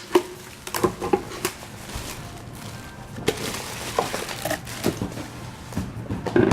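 A juicer is unwrapped from its packaging with irregular crinkles, rustles and light knocks, sometimes clustered and sometimes spaced apart, close by with no speech.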